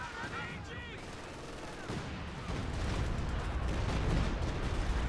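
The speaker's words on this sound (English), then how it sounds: "Stuka fire coming in now." A Stuka dive bomber attacks in Company of Heroes 2, a rattle of rapid gunfire and explosions growing louder and denser toward the end, with a commentator speaking over the battle.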